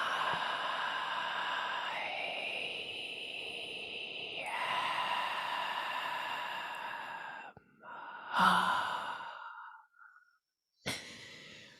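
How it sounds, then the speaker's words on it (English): Slow, deep meditative breathing: a long, drawn-out inhale and exhale that fills most of the stretch at an even level over a soft, steady hum, then a few shorter, quieter breaths with brief pauses between them. "allow yourself to inhale really nice and slow and deep"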